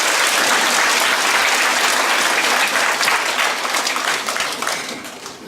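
Loud, full applause from a church congregation after a choir's hymn, a thick wash of many hands clapping close and sustained, easing slightly toward the end.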